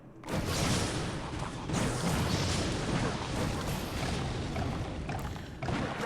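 Mortar fire in Clash Royale sounds as a dense, booming wash of game noise with a low rumble that holds steady and loud for several seconds, with no voices.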